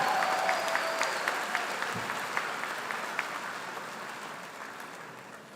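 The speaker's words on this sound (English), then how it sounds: "One more round of applause for the 2023 graduates of the Master of Science in Accounting program." A seated audience applauds 2023 Master of Science in Accounting graduates at a business school commencement, a broad, even wash of clapping in a large hall that slowly tapers off.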